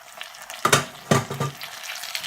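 Whole potatoes hit a hot pan of frying onions for corned beef hash, setting off two sharp bursts of sizzling that settle into a steady crackling fry, close and clear.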